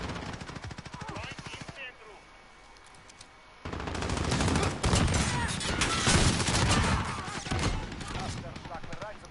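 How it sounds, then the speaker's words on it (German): Pump shotgun fire in Call of Duty Modern Warfare, first as sharp shots under speech, then after a short lull as a loud, rapid burst of gunfire lasting several seconds as the player charges in. "Einfach reinrennen und Pumpgun schießen."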